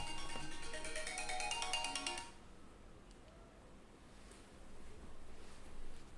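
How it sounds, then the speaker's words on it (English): A phone alarm ringtone rings loud and bright with a repeating pattern for about two seconds, then cuts off, leaving quiet room tone. "That's my alarm."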